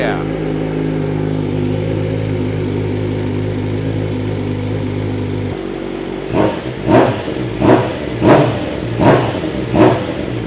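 A 2026 BMW M1000RR Stage 2 motorcycle with a new exhaust idles steadily at close range, then is revved sharply five times in a regular rhythm, each blip rising and falling quickly.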